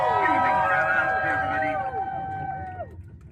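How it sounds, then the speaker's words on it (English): Recorded crowd packed into a London Underground tube carriage cheering together, a dense, loud roar of many voices with shouted tones, fading out toward the end. "Everyone cheering."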